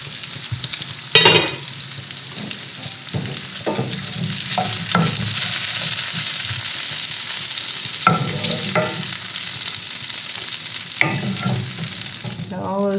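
Spoon stirring and scraping the bottom of a pot just after browning sausage, with a steady sizzle and repeated sharp scraping strokes, close and fairly loud, no talking.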